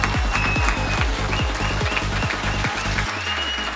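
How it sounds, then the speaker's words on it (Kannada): Applause at a preschool event, a crowd of hands clapping steadily and fairly close, mixed with bright chirping tones, then a low sustained tone as the clapping thins near the end. "ಬರ್ಲಿ ದೊಡ್ಡ ಚಪ್ಪಾಳೆ."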